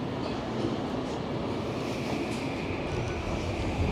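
A Vancouver SkyTrain car rolls along toward the Tri-Cities, giving a steady, even rumble and hiss of wheels and motors heard from inside the carriage, with no voices.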